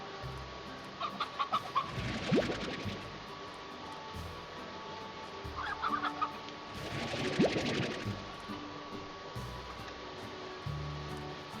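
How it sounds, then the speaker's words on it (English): Chickens cluck in the video game Slime Rancher, two bursts of rapid clucking several seconds apart over a low steady game hum, faint and fairly distant. "Chicken."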